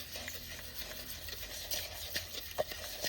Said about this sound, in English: I'm going to just mix these up because it does, see how it settles